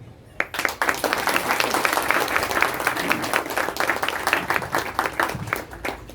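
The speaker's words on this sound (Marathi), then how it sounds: "एकदा जोरदार टाळ्या वाजवा" Audience applause at a formal meeting or presentation: loud, sustained clapping from a crowd that swells quickly and holds steady for several seconds.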